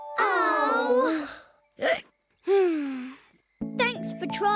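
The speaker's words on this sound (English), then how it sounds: "did your hiccups go away?" A cartoon lion gives a short, sharp hiccup between longer animated vocal sounds, with a light jingle of music at the end.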